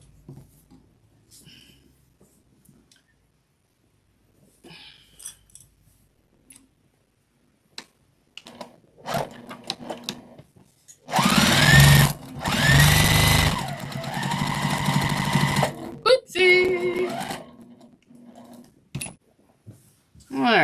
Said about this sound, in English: now I'm just going to stitch it down.